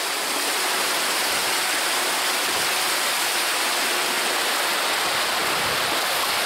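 Water rushes steadily past a sailboat's starboard hydrogenerator at sea, a loud, broad, unbroken hiss and roar with no pauses.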